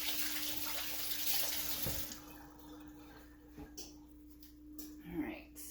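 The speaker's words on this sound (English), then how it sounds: "sorry, I'm washing my hands." Running tap water pours steadily as hands are washed under it in a home kitchen during bread baking, a broad rushing hiss for about two seconds that then cuts off into quieter room sound with a few small knocks.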